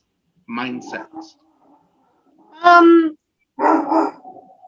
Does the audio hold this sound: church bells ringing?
no